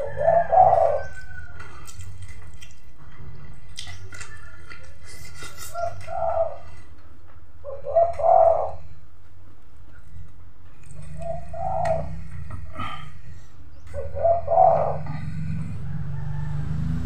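Doves or pigeons coo in the background of a quiet rural province setting in the Philippines, soft repeated coos arriving in separate bursts every couple of seconds over a faint low hum, with no talking.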